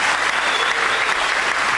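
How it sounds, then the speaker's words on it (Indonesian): A crowd applauds for a man named Beni, a steady wash of clapping close and loud for the short stretch, with no voice over it. "Tepuk tangan untuk Pak Beni"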